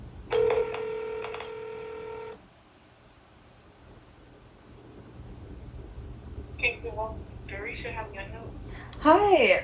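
During a recorded phone call, the line rings with a repeated electronic tone for about two seconds. A quiet pause follows, then a person starts speaking.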